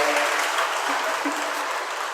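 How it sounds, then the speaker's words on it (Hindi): An audience claps steadily at a religious discourse in Shirpur, a dense even wash of applause filling the whole moment with no speech over it. "ताली बजाओ"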